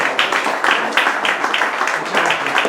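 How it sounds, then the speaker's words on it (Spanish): A lecture audience claps after a talk on Christopher Columbus, with steady moderate applause carrying a rhythmic, slightly uneven pulse from a room full of listeners. "pueden dar un aplauso si quieren"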